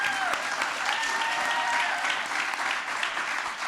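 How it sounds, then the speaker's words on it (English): Applause from the audience at a state Senate district debate in Oklahoma, a steady dense wash of clapping that holds at an even level for several seconds with no speech over it. "Give them a round of applause."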